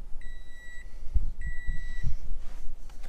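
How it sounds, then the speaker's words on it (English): Two short bursts of steady, high electronic warning tones, each lasting about half a second, sounding close by over a low rumbling background. "Sorry for the beeping"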